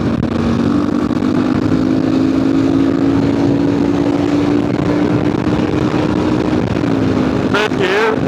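A KLR650 adventure motorcycle accelerates in fourth gear on a highway. A steady engine drone climbs slowly in pitch under heavy, constant wind rush, with a brief change in tone near the end.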